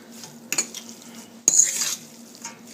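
Aglio e olio pasta with parsley being turned and tossed in a pan, a few sharp scraping clinks of a utensil against metal over a faint sizzle.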